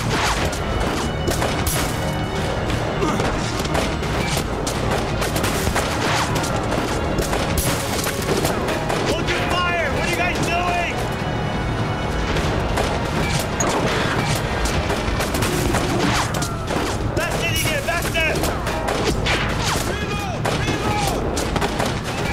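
Dense, continuous gunfire from 1979 Revolution: Black Friday crackles through a loud, chaotic street battle, with overlapping rapid shots, crashes and booms sustained throughout.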